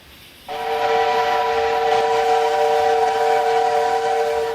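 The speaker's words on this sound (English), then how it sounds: "I love that whistle." After a brief quiet moment, the steam whistle of a China Railways QJ Class locomotive in Train Simulator 3 sounds a sustained, multi-toned chord that holds steady to the end, with a faint hiss underneath.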